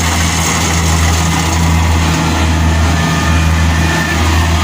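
A Kubota combine harvester engine, four months old, runs steadily with a loud low drone and a constant hum throughout, no pauses and no voices.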